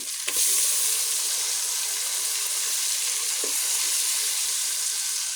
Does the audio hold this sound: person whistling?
no